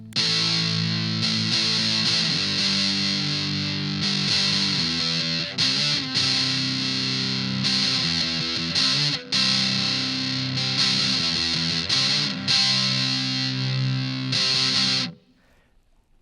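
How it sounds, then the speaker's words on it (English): An ESP LTD 256 electric guitar with humbuckers played through a Maestro fuzz pedal gives thick, buzzy distorted chords, held and restruck in a steady riff that ends abruptly. "Right off the bat, a pretty fun sounding fuzz."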